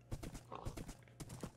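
Horse hooves clip-clopping in Minecraft, a quick run of rhythmic hollow clops at an even trot, close and moderately loud, alone without talk.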